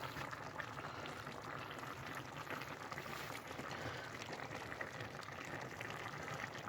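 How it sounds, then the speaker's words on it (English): A steady, dense bubbling and sizzling of stuffed cabbage boiling in a covered skillet, cooked off grid, continuous throughout with no voices. "You can see it boiling away in there, cooking."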